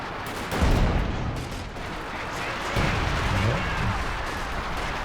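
Gunfire and artillery rumble in Company of Heroes 2 during a 2v2 match, with a couple of heavier bursts over a dense, continuous battle bed while a commentator talks throughout.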